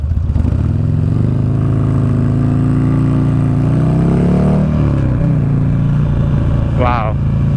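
A 2009 Buell Lightning Long XB12SS motorcycle is ridden with its engine droning loud and close, rising in pitch as it accelerates, then easing off, with a rider talking over the rumble and wind.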